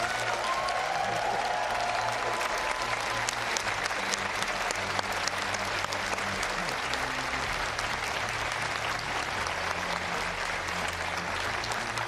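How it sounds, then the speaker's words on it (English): A large audience at a governor's debate claps continuously and loudly, a dense steady roar of applause with faint voices and cheers mixed in. "Give yourselves another big round of applause."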